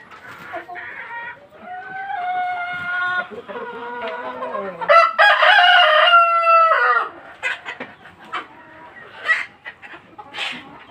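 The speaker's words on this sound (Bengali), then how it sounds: "একটা সাদা মোরগ" A white rooster on a small farm crows loudly and close, its drawn-out call followed by a second burst, then scattered clucks and short calls from nearby fowl.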